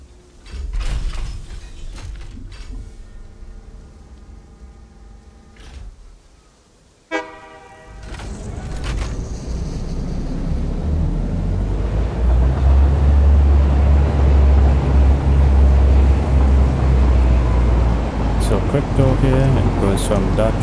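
A train pulls into a station in the Satisfactory factory-building game, with tonal horn-like toots and a brief hiss, then a loud, steady low rumble of the moving train building over the second half as a person talks intermittently.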